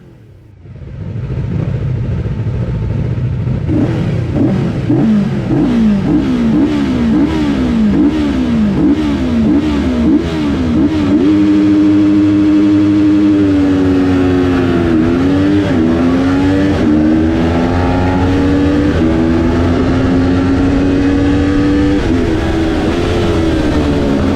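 Racing engines accelerating hard at the start of a road race, loud and close, with repeated rising revs and quick gear shifts building into a sustained roar with no talk.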